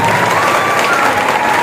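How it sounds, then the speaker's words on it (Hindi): An audience claps loudly for an 81-year-old veteran at a BSF awareness event for students, a dense, steady wash of applause filling the whole moment without a break. "80 एक बार जोर से ताली बजाएंगे"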